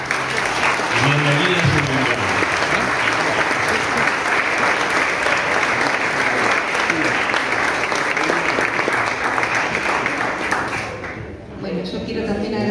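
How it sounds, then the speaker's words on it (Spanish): Loud, sustained applause from a congress audience in an arts education gathering fills the room, dense and even for over ten seconds before tapering off briefly near the end, with a voice speaking over it. "un aplauso para todos"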